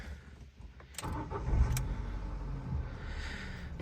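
A 2005 Ford Fiesta mk5 engine idles nearby with an even, low rumble, a couple of brief clicks and a slight rise in revs early on, then a smooth steady idle with no talk.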